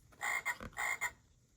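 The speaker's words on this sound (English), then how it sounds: "Frog." A farm frog gives two paired croaks, each a quick double-pulsed buzzing call, close and clear over a quiet background.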